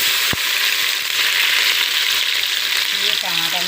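Onions fry in hot oil in a pan, giving a loud, continuous sizzle with occasional stirring clinks and scrapes in a home kitchen.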